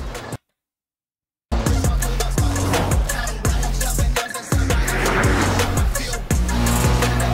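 A Porsche convertible driving in the video game NTE, its roof retracting on the move: a loud, close engine drone with repeated rising gear-change sweeps and road and tire noise, after a short silence at the start.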